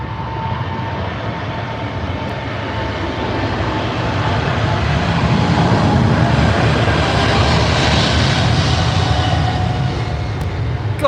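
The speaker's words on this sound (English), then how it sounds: "Dreamliner heading to Bangkok. I think that's that one taxiing out right there." A Boeing Dreamliner airliner at Heathrow rumbles with a steady, broad engine roar that swells gradually louder over several seconds, heard from a distance outdoors with no clear talk.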